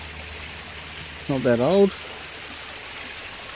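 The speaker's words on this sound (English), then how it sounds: "the water is leaking down through all this rocks and shale" Water trickles down through rocks and shale in a creek bed, a faint, steady wash of noise, interrupted briefly by someone speaking.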